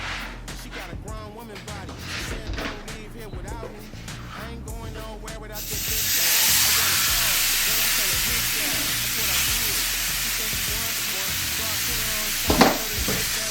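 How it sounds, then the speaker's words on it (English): A chuck roast laid in a very hot pan sets off a loud, sustained searing sizzle after a stretch of quieter talk and kitchen clatter, with one brief sharp clank near the end. "we're gonna sear our chuck roast"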